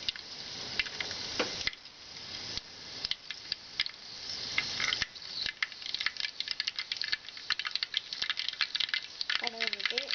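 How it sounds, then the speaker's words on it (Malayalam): Mustard seeds pop and crackle in hot oil in a Kerala-style kitchen, with rapid, irregular sharp snaps over a soft sizzle and a brief voice near the end. "കടുക് പൊട്ടി വരുന്നുണ്ട്."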